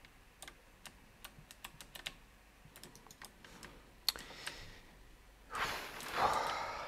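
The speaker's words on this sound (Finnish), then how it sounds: "nämä low profile klikkaavat kytkimet, niin pelikäyttöön ei tunnu sitten taas tosiaan niin hyvältä kuin tuohon kirjoittamiseen" Someone types on a gaming keyboard with low-profile clicky switches, a run of sharp, close, irregular key clicks, then a louder burst of rustling handling noise near the end.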